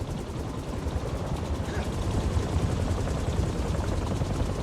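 A helicopter's rotor blades thrash in the Marvel's Spider-Man 2 video game, a dense, continuous, loud roar of chopping air that fills the whole stretch with no break.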